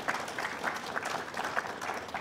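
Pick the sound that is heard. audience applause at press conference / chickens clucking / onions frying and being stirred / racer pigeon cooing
audience applause at press conference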